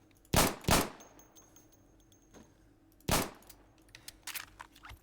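Pistol sidearm gunfire in the tactical shooter game Insurgency: three sharp, loud single shots, two in quick succession and one after a pause, followed by faint clicks and handling noises.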